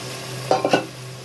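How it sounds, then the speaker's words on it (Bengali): Meat stock poured into a hot pan of browned meat, then stirred, giving a sizzle and three quick scraping strokes over a steady low hum. "এই যে মাংস সিদ্ধ করে রাখা স্টকটা দিয়ে দিচ্ছি"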